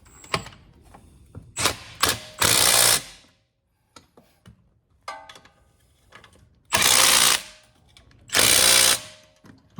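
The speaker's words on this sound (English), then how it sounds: "Put our nuts on and tighten it down." Nuts being run down and tightened on a replacement pump for a Simpson MSV3024 pressure washer: several loud, sustained bursts of a power driver alternate with short mechanical clicks and handling noises, with no talking.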